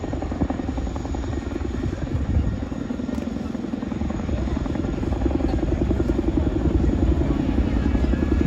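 Aircraft at an air show in Ayr, Scotland, with a loud, steady engine and rotor drone that swells slightly as it continues, close and constant throughout with no talk.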